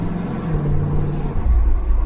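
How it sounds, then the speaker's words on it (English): A car's exhaust note rumbles low and steady at close range, a deep droning tone that swells slightly as the engine pulls harder toward the end. "It's just a great exhaust note."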